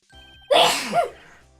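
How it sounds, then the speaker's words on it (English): A single loud sneeze from a judge character in the Ace Attorney video game, with a brief inhale before it, close and clear against a quiet background. "Judge has to sneeze."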